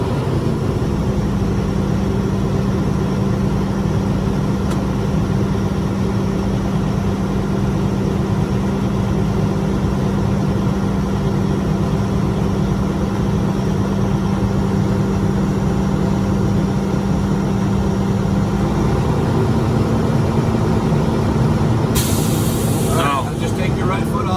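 A truck engine idles steadily inside the cab during a pre-trip inspection, a constant low hum with a drone beneath it, close and unbroken, ending in a brief rattle.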